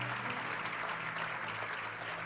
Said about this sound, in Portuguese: Acho que você podia dar um aplauso ao Senhor Jesus.